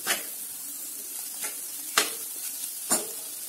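Besan (gram flour) and capsicum are sautéed in a pan: a faint, soft sizzle runs underneath, and four sharp scraping strokes of a spatula stand out at uneven intervals.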